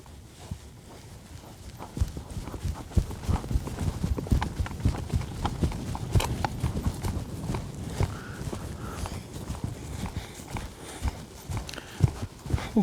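A horse lopes during speed-control training, giving a steady rhythmic drumming of hoofbeats on soft ground. The beats stay fairly close and continue throughout, with faint voices now and then in the background.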